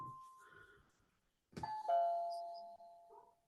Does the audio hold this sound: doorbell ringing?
yes